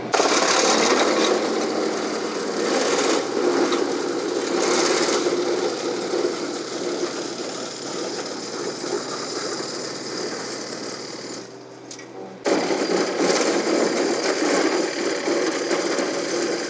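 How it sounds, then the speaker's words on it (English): A loud, steady mechanical grinding and chattering roar as a WoodMaxx 8600 wood chipper on a sub-compact tractor shreds a log, briefly dropping off for a moment near the end before surging back. "It goes in a tree and comes out in chips."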